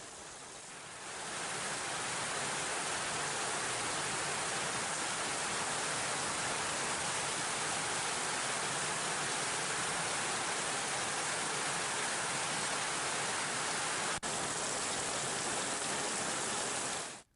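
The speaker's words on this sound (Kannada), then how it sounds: "ಜಿಲ್ಲೆಯಾದ್ಯಂತ ಗುಡುಗು, ಸಿಡಿಲು ಸಹಿತ ಧಾರಾಕಾರವಾಗಿ ಮಳೆ ಸುರಿತಾ ಇದೆ" Steady, dense downpour of heavy rain in Karnataka, a continuous broadband roar with no voices, holding at constant loudness throughout.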